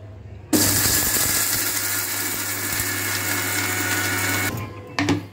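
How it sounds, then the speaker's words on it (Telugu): An electric mixer grinder in a home kitchen grinds spices for a bojwara recipe, starting with a loud steady whirring drone that rattles on for about four seconds, then stops, followed by a brief second burst. "ఇప్పుడు మిక్సీ పట్టుకుందామండి."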